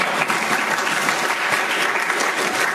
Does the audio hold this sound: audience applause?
yes